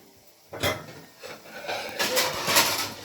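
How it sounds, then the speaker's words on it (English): A dinner plate taken from a kitchen cupboard, with a few clattering ceramic knocks and scrapes, close and fairly loud, coming in short bursts. "I need to grab a dinner plate"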